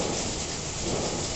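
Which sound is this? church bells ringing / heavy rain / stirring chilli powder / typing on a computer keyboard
heavy rain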